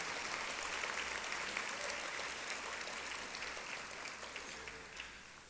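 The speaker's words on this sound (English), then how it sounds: "let's give them a round of applause" An audience claps continuously, a dense patter of many hands that stays steady and then slowly fades.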